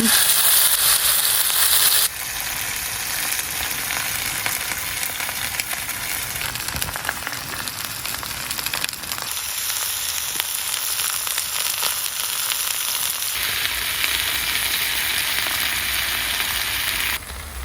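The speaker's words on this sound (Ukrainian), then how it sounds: "Уже олійка наша підогрілася, тепер будемо ложити наші стайки." Steady loud sizzling of steaks frying in hot oil, a dense crackling hiss that continues throughout with slight shifts in intensity.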